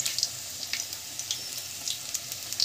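Bhetki fish fingers frying in oil on a medium flame, alongside batter-fried prawns; faint, scattered crackles and small pops spatter irregularly over a soft steady hiss, with no voices.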